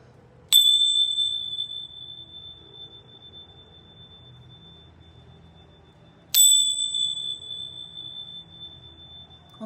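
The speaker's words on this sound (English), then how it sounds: "I am going to ring my bells really quickly" Bells are struck twice at a spiritual cleansing session, each a bright, sharp ring with a long, clear sustained tone that slowly fades, spaced about six seconds apart in a quiet room.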